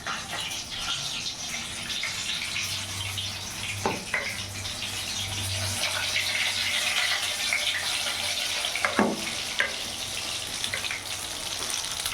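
Bombay duck fish pakora coated in gram-flour batter fries in hot oil, a soft continuous sizzle and bubbling with a few sharp crackles and clinks from the pan, heard close and fairly quiet.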